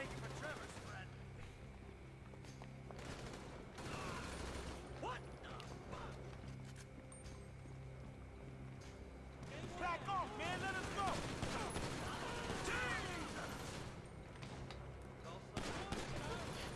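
Gunfire in the GTA V video game, with repeated shots and bursts running throughout at a moderate level, mixed with game sounds and heard under a player's talking.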